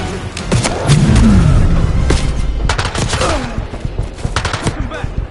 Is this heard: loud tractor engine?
no